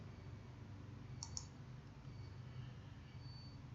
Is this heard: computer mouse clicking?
yes